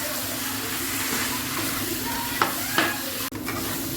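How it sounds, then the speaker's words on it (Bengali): Soybean chunks and potato are stirred and fried in a spice masala for a tarkari, a steady close sizzle broken by a couple of quick utensil scrapes. "আমি এই মশলার মধ্যে সোয়াবিন আলুটা এখন আমি ভালো করে সোয়াবিন আর আলুটা আর একটু কষাই নেব।"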